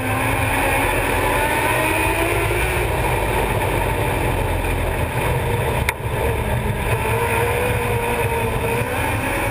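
Race cars running on the Creek County Speedway track, a steady loud engine roar drone with no clear gaps, heard from trackside with a faint tonal whine rising and falling beneath the noise.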